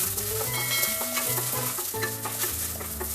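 Grated coconut frying with onion in a pan for drumstick sambar makes a continuous sizzle with stirring scrapes, heard over soft tonal music and without talking.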